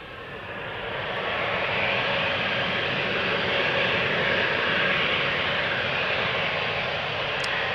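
An Embraer 190 jet taking off from Schiphol's Polderbaan bound for Bergen, its engine roar swelling within the first seconds and then holding loud and close as a broad, steady rush.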